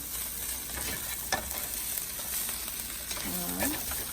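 Onions fry in a pan with a pinch of salt and pepper for a keto cheeseburger casserole, giving a steady close sizzle broken by utensil scrapes as everything is stirred together, with a brief squeak near the end.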